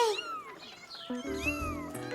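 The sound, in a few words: angry cat hissing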